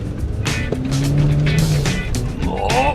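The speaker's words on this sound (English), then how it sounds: "let's take it for a little drive just to see if it performs here." A car engine running with candle wax in place of engine oil during a short test drive, a loud close engine drone with rising and falling revs and rushing noise over three seconds.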